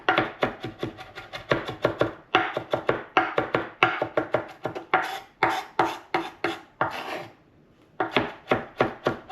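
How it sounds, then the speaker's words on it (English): A knife finely chops green onion on a cutting board for chimichurri, rapid crisp taps in quick bursts with a short pause near the end, close and loud with no talk. "So I'm going to chop this finely."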